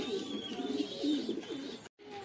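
Soft, low cooing from pigeons repeats in gentle rolling phrases, close by, over a quiet background.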